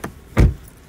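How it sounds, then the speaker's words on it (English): The driver's door of a 2003 GMC Yukon XL slams shut once, a single close, solid thud standing alone in a quiet setting. "if I shut the door all the way"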